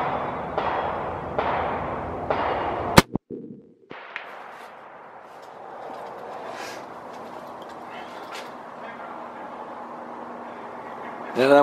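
A single loud, sharp gunshot from a .300 Weatherby Magnum rifle at outdoor target practice cracks out partway through, followed by a brief rumbling echo, with someone talking before and after.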